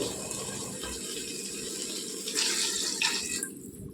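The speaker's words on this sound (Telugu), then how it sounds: "కొద్దిగా నీళ్ళు వేసుకోవాలండి" Water runs and splashes steadily into a cooking pot of sambar, swelling louder near the end before cutting off, with faint clinks of metal.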